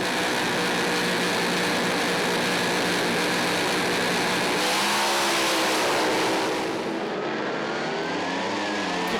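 Supercharged doorslammer drag racing cars roar at full throttle in a final-round drag race, a loud sustained engine howl with rising pitch that fades near the end.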